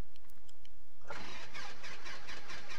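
Piper Super Cub engine in X-Plane 11 cranks and catches after a second of quiet clicks, then settles into a loud, steady rumbling idle with rhythmic pulses.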